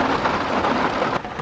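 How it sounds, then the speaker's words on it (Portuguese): Heavy rain pours down outdoors, a dense continuous hiss of water striking surfaces that holds steady and loud throughout, with no voices. "Gente, agora caiu uma chuva verídica aqui."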